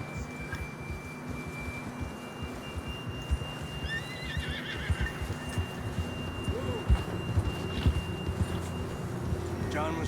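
A horse in Red Dead Redemption 2 whinnies while hooves clop along, set against a steady tonal hum and game ambience, with spoken voices mixed in at moderate, fairly quiet level.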